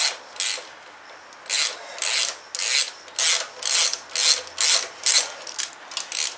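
Repeated ratchet wrench strokes undoing large motorcycle side stand bolts during engine removal, a steady series of about ten rasping clicks in a regular rhythm, close and fairly loud with no talk.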